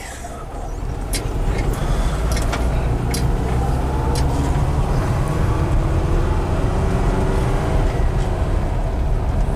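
A 1974 Volkswagen Westfalia camper with an automatic transmission pulls away, its engine drone and rumble loud and close from inside the cabin, holding steady as it gets underway, with occasional rattles and clicks on top.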